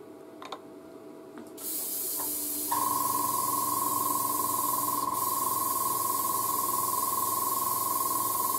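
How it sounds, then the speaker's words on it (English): A model-painting airbrush is sprayed out for cleaning, starting with a few clicks before a loud, steady hiss of air takes over. A constant mechanical tone runs beneath the spray. "So it's very important to have a nice clean airbrush."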